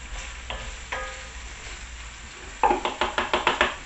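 Vegetables sizzle in a pan that had held chicken and chorizo for a jambalaya. A soft steady frying hiss is broken by a few scrapes, then quick rhythmic stirring knocks close to the pan.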